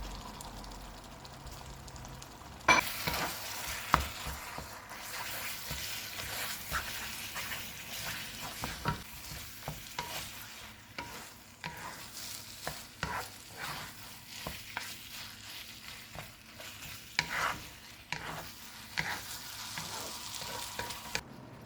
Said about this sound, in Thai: แล้วก็ใส่นกกระทาของเราลงไปค่ะเพื่อน